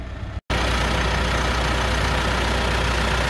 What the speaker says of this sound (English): So you can definitely hear the diesel engine.